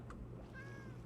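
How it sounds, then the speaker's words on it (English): A cat mob in Minecraft gives a single short, faint meow over a low steady background hum, standing in shallow water. "I think that's a cat."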